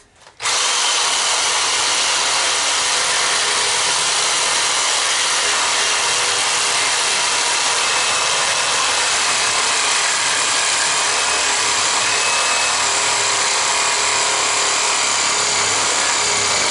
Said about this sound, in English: Okay, I guess we'll take it the rest of the way with the Sawzall.